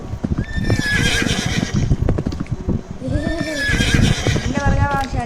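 A horse in the Roblox game neighs twice in loud, wavering whinnies, with quick clip-clop hoofbeats running underneath throughout.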